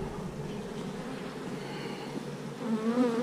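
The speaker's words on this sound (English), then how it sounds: "Look at them old black drones, huh?" Black drone bees crowded in a hive box: a dense, continuous close-up buzzing hum that wavers slightly, growing a bit louder and more agitated near the end, with no talking.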